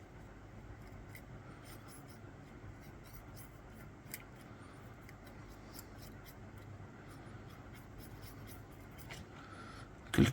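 Faint, repeated scraping ticks of a dental carver shaping an amalgam filling, small irregular strokes over a steady low background hum, quiet and close, with no speech.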